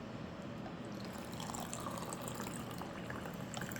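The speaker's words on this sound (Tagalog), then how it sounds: "So, lagyan natin ng tubig." Water poured into a glass of snow gathered outdoors in Calgary to make a Pepsi-flavoured drink; a faint, close, continuous trickle runs throughout with no voices.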